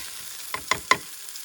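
Food sizzles and fries on a tiny butane camping stove at an off-grid home, with a soft steady crackle and three quick stirring scrapes close by, no voices.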